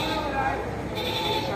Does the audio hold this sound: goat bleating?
yes